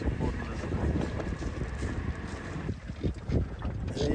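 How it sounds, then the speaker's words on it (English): Breeze gusts across a sailboat at sea off South Africa's coast, buffeting the microphone with loud, rough wind noise over sloshing water and creaks from the hull, shifting in strength throughout. "the breeze is finally arriving"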